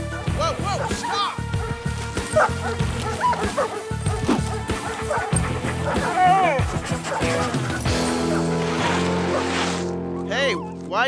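Several dogs bark and yip in short bursts, with some whimpering, close and lively, while voices talk over them throughout in a snowy, icy setting.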